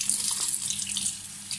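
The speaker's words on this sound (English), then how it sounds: "Rinse the capsule out." Tap water runs close and steady as it rinses out a used Nespresso coffee capsule, a continuous bright splashing hiss with no voices.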